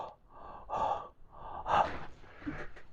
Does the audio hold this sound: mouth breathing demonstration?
yes